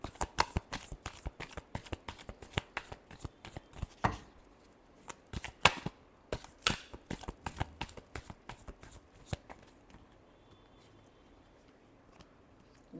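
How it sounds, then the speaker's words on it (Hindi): Near, crisp shuffling of tarot cards in quick rhythmic bursts, the papery slaps tapering off toward the end into quiet. "Last shuffle."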